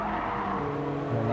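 Race car tyres scrubbing and squealing in Gran Turismo 7, a brief, continuous engine drone with rising tonal tyre whine over about a second and a half, fairly close.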